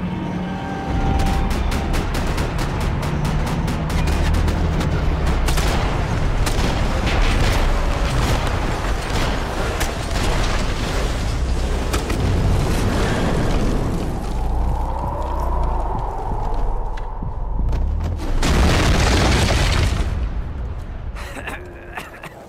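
Sustained gunfire and booming blasts in the Max Payne video game, dense crackling shots and heavy impacts over a loud action backdrop, with shouted voices mixed in.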